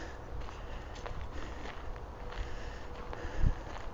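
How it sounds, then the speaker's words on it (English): Footsteps crunch along outdoors at a steady walking pace, mixed with soft wind noise and a gentle background hiss. "I'll leave you with a little bit of walking."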